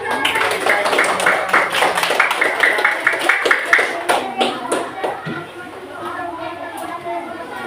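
A classroom of students clapping together, a rapid, rhythmic run of claps for about four seconds that then fades into murmured chatter and voices.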